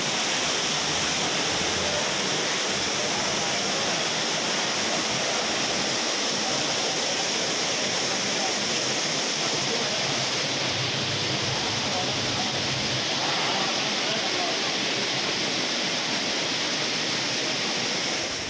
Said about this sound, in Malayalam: അട്ടപ്പാടി ചുരത്തിലും കനത്ത മഴയാണ്. മഴവെള്ളപ്പാച്ചിലും ശക്തമാണ്.